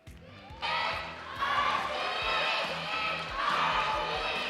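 Cheerleaders and an esports arena crowd cheer in sustained, loud waves of massed voices, with rhythmic thumping underneath and the swell rising twice after the Mobile Legends MPL Philippines match sweep.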